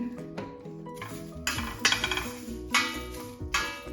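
Curry powder spices being dry-roasted in a pan on a stove, heard as clattering metal scrapes and clinks of stirring in bursts, with a resonant ringing pan tone underneath.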